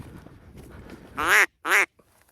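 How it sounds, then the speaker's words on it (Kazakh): Two loud, nasal duck quacks ring out close by in quick succession during a spring duck hunt, following a stretch of quiet rustling. "Үйректер малаққа жақсы келіп тұр."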